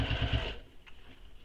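A sewing machine runs briefly at stitch length while sewing seams of a fabric bag with lining, a short close burst of rapid stitching that stops abruptly, followed by quiet.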